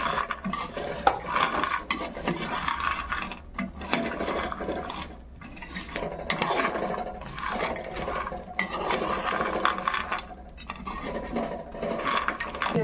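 Multigrain health-mix ingredients dry-roasting in a pan, with a spoon or spatula stirring and scraping almost without pause, sharp metallic clinks landing against the pan across a steady rustle.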